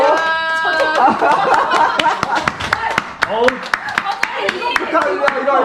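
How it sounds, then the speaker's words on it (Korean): A small group of hikers on a mountain trail claps in quick, uneven bursts, with laughter and chatter mixed in throughout. "박수! 박수! 박수! 박수!"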